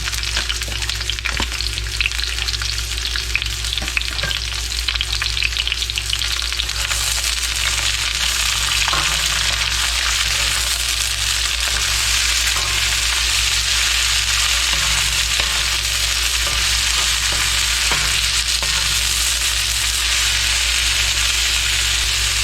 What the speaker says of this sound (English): We're going to go ahead and fry up some green peppers and some onion.